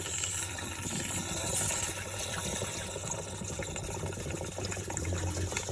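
Fluid draining from a Case 188D tractor into a bucket, a steady close trickling and splashing wash that runs continuously throughout without pause.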